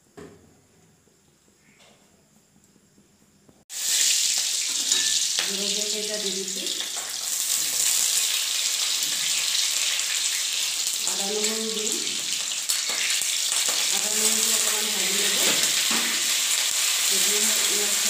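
Mustard seeds, white mustard among them, hit hot oil in a heated wok and erupt into a loud, steady sizzle and crackle after a quiet start, while a voice speaks intermittently over the frying.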